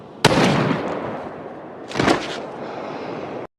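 Two sharp sniper gunshots in the film War Driver, the first loud and abrupt, the second about two seconds later, each trailing off into a reverberant rumble.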